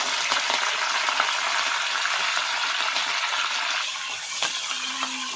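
Washed curry leaves dropped into hot oil for a curry, setting off a loud, continuous crackling sizzle that spits and pops, easing slightly toward the end.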